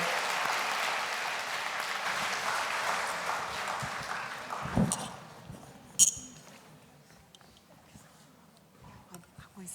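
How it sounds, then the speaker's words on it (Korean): A church congregation at a Christmas all-generation worship service claps in a loud sustained round of applause that fades after several seconds, followed by scattered clinks and a few soft sounds, with speech around it. "우리 성경 봉독하는 친구들 나올 때 우리 큰 박수로 우리 아이들 맞이합시다."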